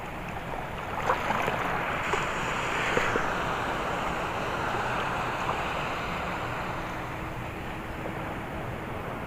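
Continuous surf roars and washes, with wind buffeting the microphone and a few louder swells breaking nearby.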